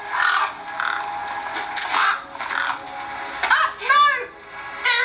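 Crow caws in a mobile video game on an old iPhone SE, several harsh descending calls clustered near the end, over a busy layered game soundtrack with voiced dialogue.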